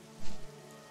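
Steady rain patters down as an ambient backdrop for a fantasy tabletop role-playing session, a soft continuous hiss with a brief swell of heavier drops near the start.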